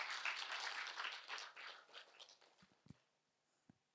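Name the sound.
audience clapping loudly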